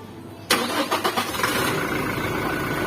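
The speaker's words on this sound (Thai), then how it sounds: "กดเข้าไปเครื่องยนต์สตาร์ทได้เลย" A Toyota Revo engine, started by remote push-start, cranks with a few quick chugs, then catches and settles into a steady idle hum.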